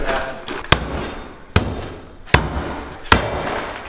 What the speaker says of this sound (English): So Esther, start chipping away at the edges and see what happens